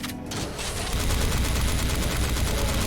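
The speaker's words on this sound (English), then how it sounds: "Enraged LMG got new sprites, new sounds." Enraged LMG machine gun in the Doom mod God Complex, firing in a sustained, dense rapid-fire burst that runs loud and continuous for the whole stretch after a brief softer start.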